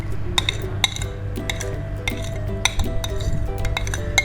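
Metal spoon scraping and clinking against a pan as mango paste is transferred in, a run of sharp taps and clatter at close range over a steady low hum, no voices.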